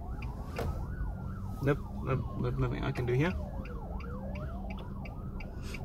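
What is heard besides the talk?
emergency vehicle sirens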